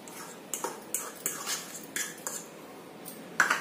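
Mashed potato being mixed into leftover rice for cutlets, with soft repeated spoon clinks and taps against a bowl in an irregular rhythm, close and fairly quiet.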